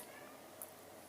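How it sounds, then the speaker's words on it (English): A pet cat gives one brief, faint meow in a quiet indoor room. Nothing else is heard but low background hiss. "That's my cat, Penny."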